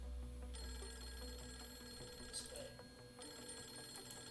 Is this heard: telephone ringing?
yes